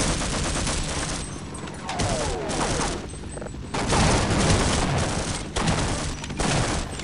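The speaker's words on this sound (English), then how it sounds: "Stop shooting me!" Sustained gunfire in the video game Half-Life, rapid loud bursts of shots and booms continuing for several seconds, dense and close, with a player's voice shouting briefly underneath.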